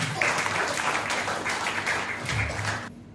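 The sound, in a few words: audience applause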